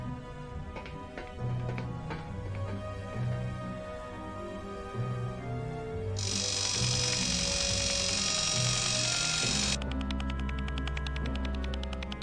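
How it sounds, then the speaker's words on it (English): Drilling at a door lock in Grim Fandango, with a steady motor whine over background music that swells into a louder, brighter high-pitched grind midway, then drops to a lower buzzing tone. "I'm just going to try drilling it again."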